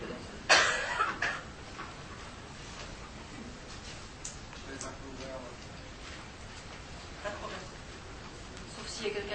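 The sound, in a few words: person coughing during a lecture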